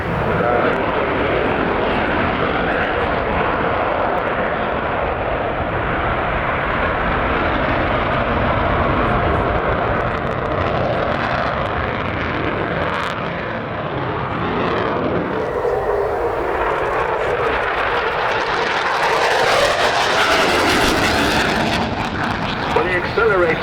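A 29 Squadron display jet flies over an airshow at RAF Cosford, its loud continuous engine roar rising and shifting in pitch as it accelerates and passes, with a commentator talking over it.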